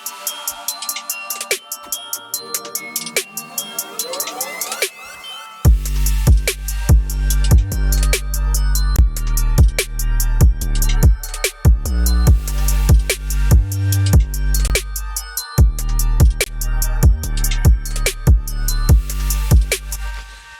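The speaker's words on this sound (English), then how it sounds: "that is a beat, and I made every sound you hear there on the stream" A trap beat built entirely from sounds synthesized in Kilohearts Phase Plant. A sparse melodic intro runs for about five seconds, then heavy sub-bass and punchy drums drop in with rapid hi-hats, looping steadily and loudly with no talking.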